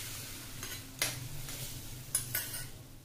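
Hot tempering with a dried byadgi chilli is poured over cooked dal, giving two short, faint bursts of sizzle and spatter, each trailing off quickly against a quiet kitchen background.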